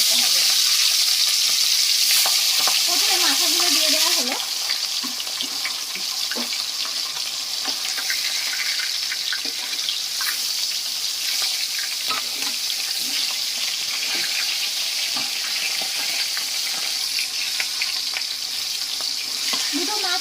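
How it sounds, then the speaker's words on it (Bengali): Fish sizzle loudly in hot mustard oil in a kadai, a broad crackling hiss that bursts strongly at first, then settles into a steady, close fry with occasional stirring clinks. "তেলটা সুন্দর গরম হয়ে গিয়েছে এবারে মাছগুলোকে দিয়ে ভেজে"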